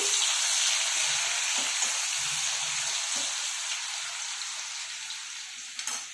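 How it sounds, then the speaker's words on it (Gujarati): Garlic sautéing in hot oil with mustard seeds and cumin gives a loud, continuous sizzle up close. Faint low clatters of stirring sound beneath it, and it eases slightly before a small click at the end. "લસણને આપણે 2 મિનિટ માટે જ સાતળવાનું છે"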